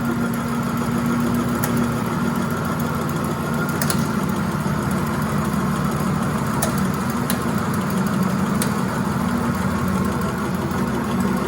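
A steam power plant trainer's turbine drones steadily for about eleven seconds, with a constant mechanical hum and vibration as it slows under added electrical load. A few faint clicks sound over the drone, and no one speaks.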